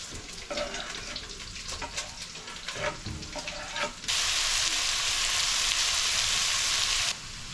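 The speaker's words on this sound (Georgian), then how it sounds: "მოვაყრით ხახვს და ნიორს, წითელ ბულგარულს. დაბრაწვა დაიწყო." Onion, garlic and red bell pepper frying in a pan with a busy close sizzle and stirring scrapes, then a sudden louder, even hiss that runs for about three seconds before easing back, with no talking.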